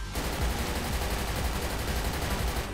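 Rapid sustained gunfire in a GTA roleplay game, dense overlapping shots and bursts throughout, loud and close with no talk over it.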